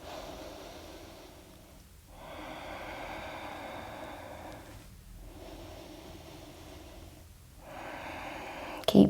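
Deep, slow breathing during a yoga hip-opening practice, with long airy exhales and short pauses between them, three breath cycles heard close and steady over soft background hiss.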